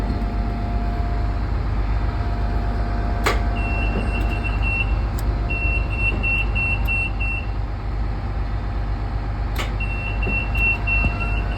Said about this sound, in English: make sure there is nothing in the way when deploying the ramp